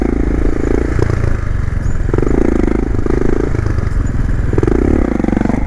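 A motorcycle held up on its back wheel roars close and loud, engine note rising and falling in repeated surges as the throttle is worked.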